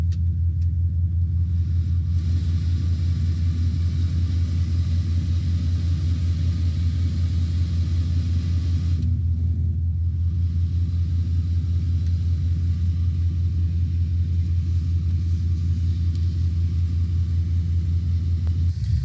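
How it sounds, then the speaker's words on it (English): A compressor hums in a truck camper, a steady low rumble holding at an even level throughout, with a brief dip near the middle. "I'm going to turn the compressor on"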